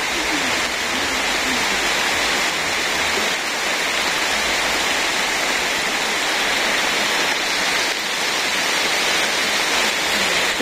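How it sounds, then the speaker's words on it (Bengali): Heavy rain pours steadily in a rural Bangladeshi village, a dense, loud, unbroken wash of broadband hiss that continues without pause. "বন্ধুরা, আজ বৃষ্টি শুরু হয়ে গেছে"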